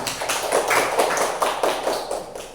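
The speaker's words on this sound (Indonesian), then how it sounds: "Tepuk tangan untuk rekan kalian." Students in a classroom clapping for a classmate, a short burst of fairly close, dense hand claps with a few stronger beats, no talking over it.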